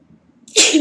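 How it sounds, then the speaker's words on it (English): A single sharp sneeze bursts out near the end after a moment of near silence, close and loud. "Oh, sorry for my sneeze."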